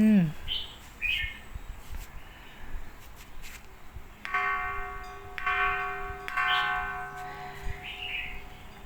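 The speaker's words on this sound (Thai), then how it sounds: "อ่าแล้วก็เราจะมาตีระฆังกัน" A large temple bell at Wat Phra Mahathat, a Thai temple, is struck twice, each stroke ringing out with a long, shimmering metallic hum that decays slowly, over outdoor ambience with birds chirping and people talking nearby.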